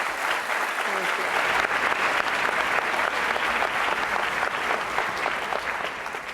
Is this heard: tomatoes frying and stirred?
no